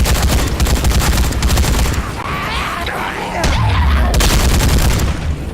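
Automatic fire from an LMG in the Dead Rising 3 video game on Xbox One, a dense stream of shots running through most of the clip with booms and other game sounds mixed in.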